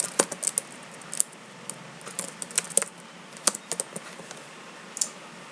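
Computer keyboard typing while entering a comment in an Excel spreadsheet: quick, uneven runs of close, crisp key clicks with short pauses over about five seconds, and no voice.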